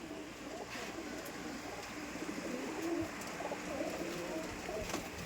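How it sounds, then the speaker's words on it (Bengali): Pigeons at a Giribaj pigeon farm coo steadily throughout, several birds overlapping in a continuous low murmur at moderate distance, with no talking. "এই হচ্ছে সাবির ভাইয়ের কবুতর খামার"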